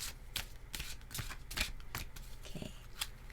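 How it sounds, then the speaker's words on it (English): Angel oracle cards are shuffled by hand in a loose rhythm of soft, close slides and snaps, roughly eight distinct bursts over a quiet background with no speech. "I'm just going to shuffle the cards."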